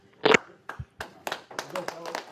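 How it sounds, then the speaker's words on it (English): Scattered claps from a small group in the San Francisco 49ers draft room, a few sharp hits and short bursts spread unevenly over a couple of seconds, close and modest in volume. "there are the claps from the 49ers draft room"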